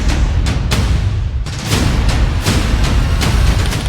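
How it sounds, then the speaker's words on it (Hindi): Firecrackers bursting on Diwali night in Delhi, a steady crackle and rumble with repeated sharp pops and bangs spread across the scene, loud and continuous with no voices. "दिल्ली में दिवाली की रात खूब पटाखे फूटे।"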